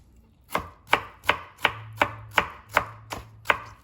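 A knife julienning radish into matchsticks on a cutting board, nine crisp, evenly spaced chops in a steady rhythm, close up with no talking.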